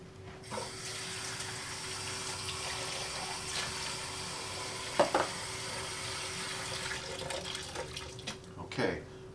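Leafy red leaf lettuce is washed in ice cold water in a sink, a faint steady running-water hiss with a couple of splashy handling sounds and a low hum underneath, no talking.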